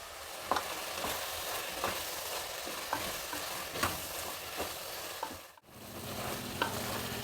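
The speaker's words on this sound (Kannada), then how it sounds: "ಮಸಾಲೆ ಎಲ್ಲ ಚೆನ್ನಾಗಿ ಫ್ರೈ ಆಯಿತು" Garam masala, turmeric and thick yogurt frying with vegetables and kasuri methi in a pot, a quiet continuous sizzle punctuated by regular light clinks of a spoon, briefly dropping out before resuming.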